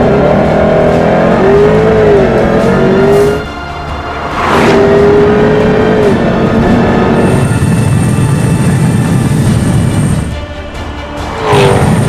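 A 2013 Jaguar F-TYPE V8 S sports car on a high-speed sprint run at Jabbeke, its loud engine note rising in pitch through repeated gear changes as it accelerates past, with heavy wind and road roar in between.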